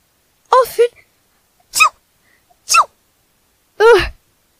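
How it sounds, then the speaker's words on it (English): A sneezing fit of four quick, close sneezes with pauses between them, the first a double burst, in a quiet ASMR roleplay setting with no other sound. "I tend to have sneezing fits quite often."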